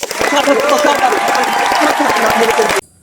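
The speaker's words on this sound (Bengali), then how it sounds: "তালি দাও তালি দাও তালি দাও" Dense applause and cheering from a crowd fill the space right after a song, loud and continuous with scattered claps over a voiced din, cutting off abruptly near the end.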